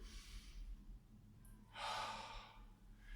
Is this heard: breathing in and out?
yes